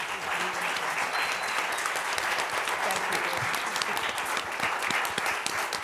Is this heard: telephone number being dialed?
no